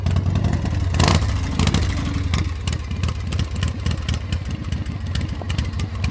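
A 1985 Harley-Davidson FXSB Super Glide with drag pipes and a Wide-Glide front end rumbles loud and close, its deep, lumpy V-twin exhaust idling and blipping steadily throughout.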